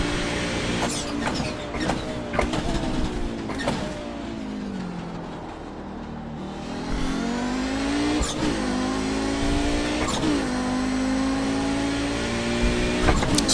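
An Audi GTO race car in the iRacing game at Summit Point, its engine roaring steadily throughout, climbing through the revs with repeated gear changes and brief dips as it slows into and powers out of corners.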